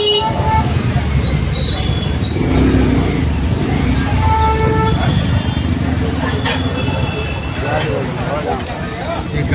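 Vehicles push through a crowded bangle market street in Firozabad, horns honking repeatedly and loudly over constant traffic rumble, with crowd chatter throughout.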